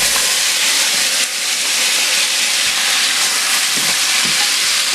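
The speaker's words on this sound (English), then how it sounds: "so now we add the oxtail" Oxtail sizzles and fries in browned, caramelized sugar in a pot, a loud, steady, dense hiss held close up for the whole stretch with no voices.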